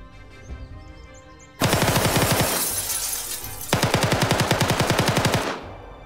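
Two long, loud bursts of M249 machine gun fire from the Exile Chernarus mod, rapid and evenly spaced, separated by a brief pause and with no talk.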